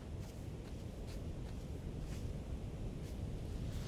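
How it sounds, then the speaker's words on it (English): Strong wind buffets the microphone outdoors during a small aircraft flight to an island, a continuous loud low rumble with gusty bursts, close and alone, no voices. "Oh, windy."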